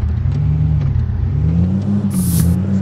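A yellow Mahindra Scorpio SUV in a video game accelerates with a steady, loud mid-pitched engine drone that rises slightly in pitch, accompanied by a brief hiss near the end.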